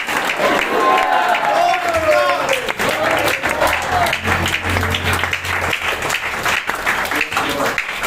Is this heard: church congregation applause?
yes